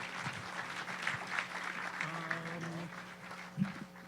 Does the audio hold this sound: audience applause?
yes